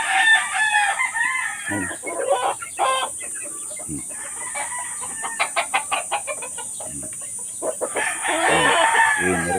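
Gamefowl roosters in a farm coop crow and cluck nearby, with repeated sharp calls and a long crow toward the end, while someone speaks briefly over the birds.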